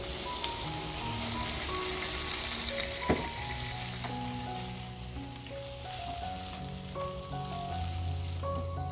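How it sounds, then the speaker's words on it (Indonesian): Luffa gourd sizzles steadily as it is sautéed in a pan, a continuous frying hiss with occasional stirring clatter, close and moderately loud with no talking. "kita tumis sampai oyongnya terlihat layu ya"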